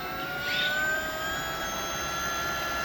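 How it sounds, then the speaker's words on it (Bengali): An electric motor driven through a newly fitted motor controller spins at high speed, giving a steady high-pitched whine with a faint swell near the start, continuous and fairly loud, no talking. "তো মোটরটা ঘুরছে দেখতেই পাচ্ছেন, হাইলো, মোটর হাইলো। ঘুরছে।"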